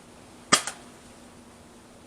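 Nerf Element EX-6 blaster firing a single dart on an outdoor range: one short, sharp pop followed by a brief whoosh, then near silence.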